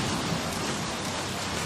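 Steady rain hisses in a dense, even wash, fairly soft and continuous throughout, in the video game Max Payne 2.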